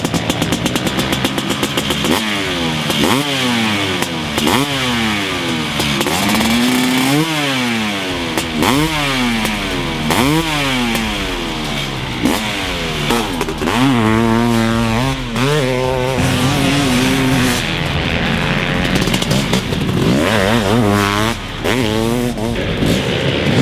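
A BRC 500cc two-stroke motocross bike engine revs hard and repeatedly, rising and falling in pitch through the whole stretch, loud and close with a raspy, buzzing tone.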